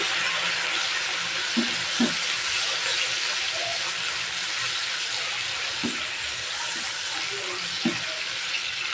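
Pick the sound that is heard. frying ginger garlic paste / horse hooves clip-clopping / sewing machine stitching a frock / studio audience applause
frying ginger garlic paste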